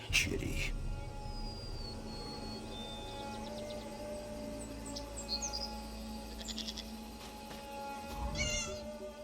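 A cat meows in The Elder Scrolls Online, set in Southern Elsweyr, with a few short mews rising over a steady game ambience and low background hum, fairly close and moderate in level.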